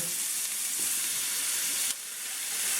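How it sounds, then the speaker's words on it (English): Onions sizzle in a skillet over medium-high heat, a steady, close frying hiss that dips briefly before resuming. No speech is heard. "In this same skillet, I'm going to go ahead and add my onions."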